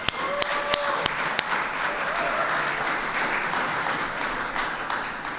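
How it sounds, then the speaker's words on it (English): Young people at a Safe Spaces end-of-summer celebration applaud themselves, a steady wash of clapping with a few sharp individual claps and some voices underneath. "Please give yourselves a round of applause."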